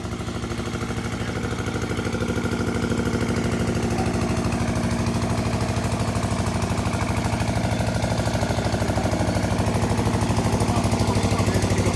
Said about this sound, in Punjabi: ਇਹ ਟਰੈਕਟਰ ਹੈ